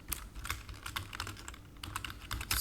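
Code is typed on a computer keyboard in quick, uneven runs of close keystrokes, with brief pauses between bursts and no voice over them.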